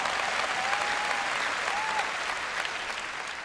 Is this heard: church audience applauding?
yes